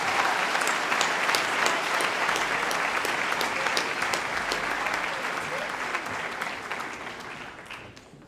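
An audience at a high school Year 12 graduation ceremony claps for the graduates, a dense sustained round of applause that holds steady and then gradually tapers off toward the end.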